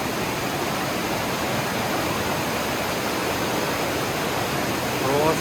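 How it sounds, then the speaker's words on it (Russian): An underground river rushes through the Red Cave in Crimea, its broad, even roar filling the space continuously at close range with no voices. "Это подземная река. Посмотрите, насколько сейчас здесь много воды."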